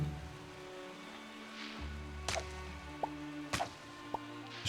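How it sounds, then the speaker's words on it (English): Crisp chopping hits on flowers in the farming game Fae Farm, a few sharp thwacks spaced irregularly over soft background music, moderately near. "Just chopping somebody's flowers."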